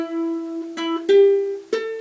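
A ukulele plays the chorus of a song, a few plucked notes ringing over a sustained tone, with fresh attacks near the middle and end of a short, clear phrase.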